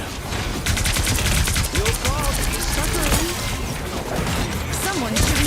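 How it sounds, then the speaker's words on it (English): Gunfire rattles in bursts from a distance in a shooting video game, with rapid cracks running throughout while voices talk over it. "Someone's shooting from afar."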